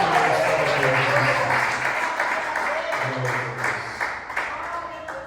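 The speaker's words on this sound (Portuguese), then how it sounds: "Uma salva de palmas para o nosso Senhor" A church congregation claps together in praise during a Portuguese-language worship service, a fairly loud burst that gradually thins out while a voice carries on over it.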